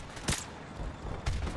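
Two sharp gunshot bursts, spaced about a second apart, in Call of Duty 4: Modern Warfare Remastered, heard over a noisy, busy game backdrop.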